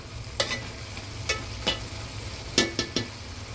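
Cauliflower curry is stirred in a pan over a low hum and faint sizzle, with a spatula scraping in about seven short, sharp strokes that come in uneven groups.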